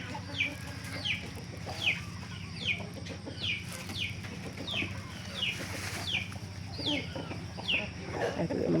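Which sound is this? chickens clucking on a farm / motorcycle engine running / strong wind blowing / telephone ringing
chickens clucking on a farm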